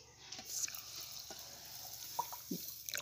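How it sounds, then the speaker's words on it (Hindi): A glass of chilled water is poured into fresh mint juice, faint splashing and dripping with a few small clinks, quiet and close. "इसके बाद में हम डालेंगे इसमें एक ग्लास पानी"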